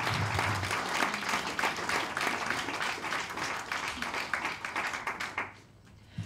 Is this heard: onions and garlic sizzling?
no